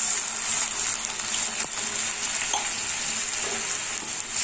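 Bottle gourd halwa, with fried grated gourd and a quarter litre of milk just poured in, hisses and bubbles steadily in a pan while a spoon stirs with occasional soft scrapes, close and continuous.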